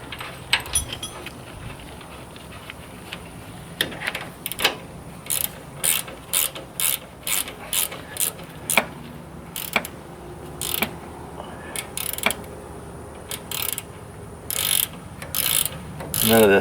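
A ratchet wrench clicks in repeated short bursts while tightening a nut down over a bushing and stacked washers, the crisp pawl ticks coming in steady strokes with brief pauses between them, close and clear.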